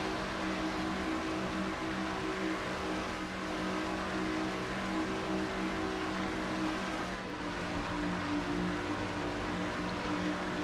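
Onboard engine of a Goodwrench Chevy stock car in a NASCAR-style racing video game, a loud, steady high-revving drone that holds almost unchanged throughout with only slight dips in pitch.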